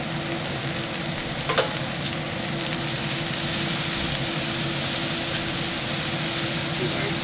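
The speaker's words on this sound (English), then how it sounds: "we're just going to let the onions saute a little bit" Onions sautéing in beef juices left from cooking steak, a steady broad sizzle throughout with a faint scrape or two near the start and a low background hum, no talking.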